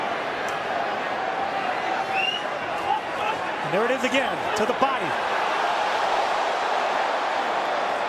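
Steady roar of a large arena crowd at a Canelo Alvarez vs Billy Joe Saunders boxing match swells beneath a commentator's voice, with a few sharp thuds and rising shouts in the middle.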